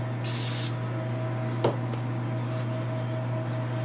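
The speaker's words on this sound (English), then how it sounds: "So let's spray a little here." A Duplicolor gloss car paint spray can hisses in one steady burst near the start, followed by a brief sharp click amid a constant low hum, with no talking.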